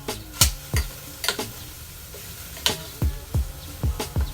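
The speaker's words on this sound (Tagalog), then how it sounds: "Saute it." Onion, garlic and ginger sautéing in a pan with rendered pork fat, heard as a soft background sizzle broken by a series of sharp spatula clicks and taps against the pan at an uneven rhythm, close by with no talking.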